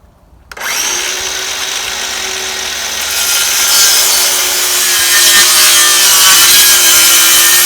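A saw cuts into a wooden piece for a nest box cleat. After a short silence it starts abruptly, and a loud, close, continuous grinding rasp holds steady and grows slightly stronger toward the end.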